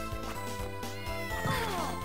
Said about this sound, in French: Pourquoi il miaule?